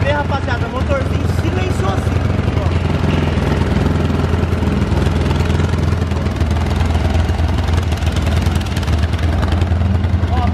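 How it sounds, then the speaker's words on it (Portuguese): An engine idles with a steady low rumble that holds constant throughout, loud and close. "Presta bem atenção no barulho do motor"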